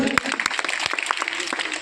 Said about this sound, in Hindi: तो एक बार हमारे विधायक जी को जोरदार तालियां।